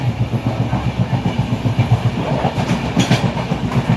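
A moving train's interior on a Mumbai trip carries a loud, steady rhythmic clickety-clack of wheels over rail joints, with a constant rumble throughout and no talking.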